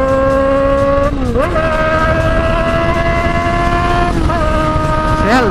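Honda Hornet motorcycles with carburetors roar through the streets in the early morning hours, their engines holding loud, steady tones. The pitch dips and climbs three times as the throttle is blipped, with faint crackles from the exhausts.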